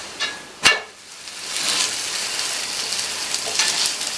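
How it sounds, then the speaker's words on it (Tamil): Parotta set down on a hot pan with a sharp clack, followed by a steady broadband sizzle that rises and holds close by, with brief louder flare-ups of frying. "இப்போ பரட்டி போட்டுக்கலாம்."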